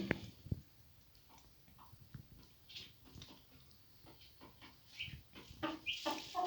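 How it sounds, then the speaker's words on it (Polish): Miniature Wyandotte chickens, a rooster and two hens, clucking softly in short, scattered calls over a quiet farmyard background, with a few louder squawks near the end. "W hodowli posiadam obecnie koguta i dwie kurki."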